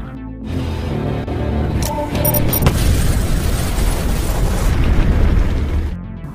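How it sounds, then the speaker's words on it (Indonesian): A loud, sustained explosion roar with deep rumbling that fills the whole stretch, trailing into debris noise before fading out. "Menyadari akan hal itu, Robert segera meledakkan bom di samping mayat Potter."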